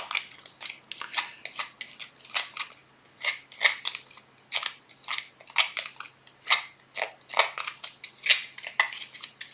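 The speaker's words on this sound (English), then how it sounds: "hold my scissors like this and scrape" Scissors blade scraped repeatedly along paper edges to distress them for a Halloween craft, giving a steady run of dry, rasping strokes up close with no talking.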